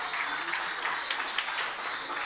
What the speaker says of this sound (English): Round of applause to Mr. Ross.